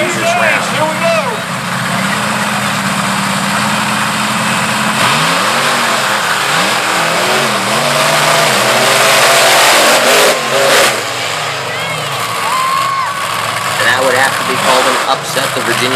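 Monster truck engines roar and rev at full throttle during a race at a Fishersville, Virginia event, loud and continuous with rising and falling pitch, under an excited commentator talking throughout.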